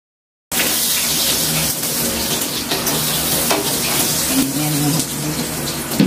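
Adobo sizzling in a frying pan, a loud continuous hiss and crackle of hot oil that starts abruptly and keeps going steadily, close up, with occasional clinks of stirring.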